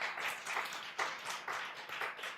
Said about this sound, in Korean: 박수 크게 한번 쳐주세요